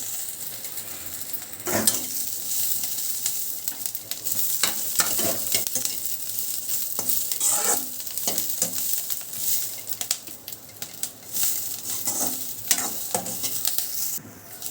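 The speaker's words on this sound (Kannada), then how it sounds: "ಸ್ವಲ್ಪ ಹಸಿ ವಾಸನೆ ಹೋಗೋವರೆಗೂ ನಾವು ಹುರ್ಕೋಬೇಕು" Chili and garlic fry in a pan on a gas stove, a steady sizzle broken by scraping stirs and clattering spoon knocks at irregular intervals, close by with no talking.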